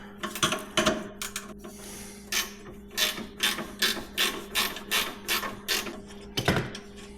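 A hand ratchet clicks in steady strokes while loosening an 11 mm bolt on a Toro snowthrower, a close run of regular rasping bursts with brief pauses.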